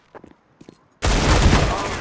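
Loud close automatic gunfire from a CS:GO match sounds as a sustained burst that cuts in abruptly after a few faint clicks and footsteps.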